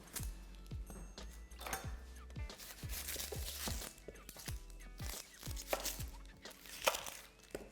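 A knife slicing red onions finely on a chopping board, a steady series of close, crisp cuts at roughly one per half second, with no talking.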